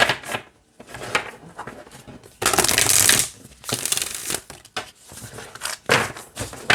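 An oracle card deck is shuffled in several quick riffling bursts, with papery rustling and pauses between handfuls.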